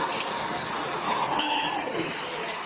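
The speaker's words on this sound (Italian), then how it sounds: "c'è un rumore di fondo delle macchine" Constant industrial rumble of mozzarella factory machinery fills the space, a dense mechanical hum and whir with faint clanks, loud and unbroken.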